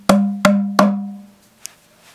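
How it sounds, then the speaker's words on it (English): A small djembe drum from a nursery rhythm kit, hit three times in quick succession, giving a resonant, booming tone with a slap attack and lingering hum, close and alone, followed by a faint tap. "Djembe."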